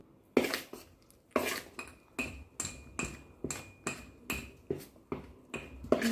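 A spoon or whisk beats homemade cake batter in a bowl with baking powder mixed in, giving a regular series of about a dozen sharp clinking strokes against the bowl, close and alone.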